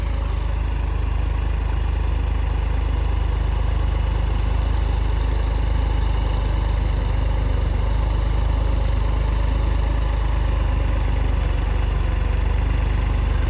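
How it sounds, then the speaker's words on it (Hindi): A New Holland 3630 50 HP tractor in 4x4 works a field, its diesel engine droning steadily and loudly throughout with no pauses and no voices. "लेकिन रुक नहीं रहा है ट्रैक्टर।"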